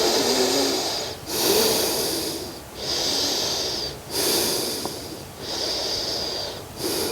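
Long, deep breaths during a meditative chakra yoga practice, forceful airy exhales and inhales in a slow steady cycle of about four, loud and close to the microphone with no talk.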